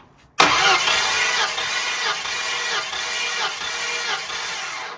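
A nitrous Mustang engine cranking on the starter during a cylinder compression test, a sudden onset into a steady rhythmic churn with regular pulses, close and loud for several seconds before cutting off.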